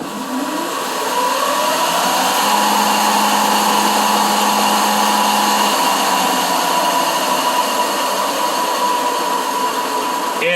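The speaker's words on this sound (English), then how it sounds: "when the motor fires up" A homemade robot sawmill motor run by VFD drives starts up, its whine ramping upward in pitch over the first seconds and then settling into a loud, steady hum that holds to the end.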